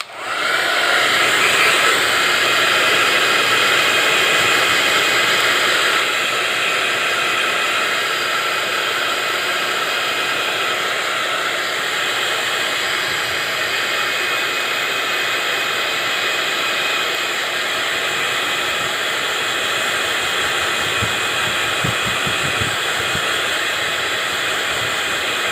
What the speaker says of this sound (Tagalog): ito yung hot air na blower.